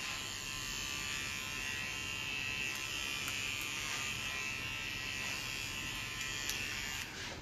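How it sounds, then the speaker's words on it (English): A small electric hair clipper trims the short little hairs at the nape during a short graduated layered women's haircut, giving a steady, close, unbroken buzz throughout with no talking. "it's much easier to grab them with a little clipper"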